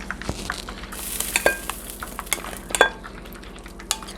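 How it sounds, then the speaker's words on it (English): Gluten-free hot wings are stirred through sauce in a dish, giving wet scraping and sloshing with occasional light clinks of utensil against dishware, close and continuous. "you can just kind of stir it around in there"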